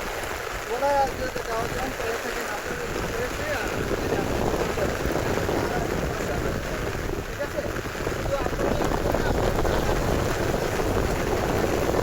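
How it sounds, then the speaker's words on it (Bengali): Heavy rain falls in a dense, steady hiss that fills the whole scene from start to finish without a break. "বৃষ্টি পড়তেছে তো অনেক"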